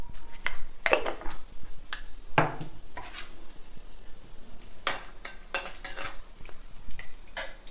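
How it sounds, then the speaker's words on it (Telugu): Cumin seeds tossed into a pan of hot oil, with sharp metallic clinks and scrapes of a utensil against the pan, irregular close taps over a faint sizzle, no voices. "జీలకర్ర వేగింది."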